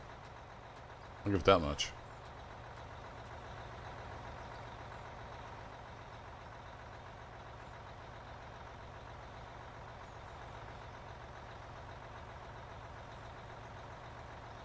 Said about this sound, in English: Diesel does sound good idling back there.